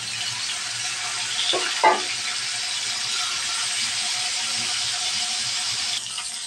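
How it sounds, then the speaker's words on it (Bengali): Koi fish, rubbed with turmeric and chili, fry in hot oil with a continuous loud sizzle and a brief crackle early on, steady throughout with no voices. "তেলটা গরম হয়ে গেল, এখন আমি মাছ দিয়ে দেব"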